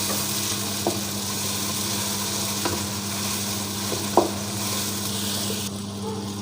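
Tomatoes sizzle and fry in a pan of browned onions for a karela pyaz dish, a steady broadband hiss with a few soft clicks of stirring, close and constant throughout.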